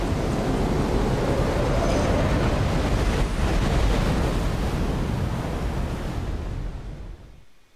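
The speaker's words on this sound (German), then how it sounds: "Ganz schön fette Wellen!" Big ocean waves in the video game Secret Files 2: Puritas Cordis, a loud, steady broadband roar of surf and wind that holds constant for several seconds before fading out at the end.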